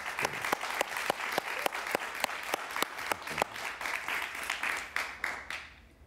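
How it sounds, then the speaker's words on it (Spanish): A studio audience applauds Luis Chataing: a crowd wash of clapping with a few sharp, rhythmic near claps standing out, steady throughout and tapering off at the close. "Un aplauso para Luis Chatel."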